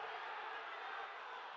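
Football stadium crowd noise during a match, a broad steady roar of fans protesting and demanding a penalty after a player goes down in the box, continuous and loud throughout.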